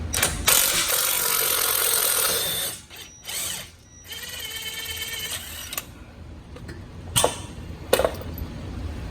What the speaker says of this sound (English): take my E18 socket again and remove the bolts on this side